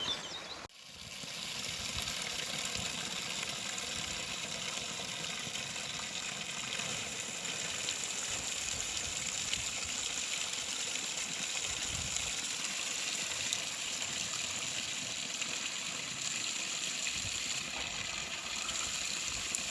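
Drinking water rushes steadily into a bottle with a continuous gushing hiss, starting with a brief clunk and running unbroken to the end, at a farmhouse in Latvia.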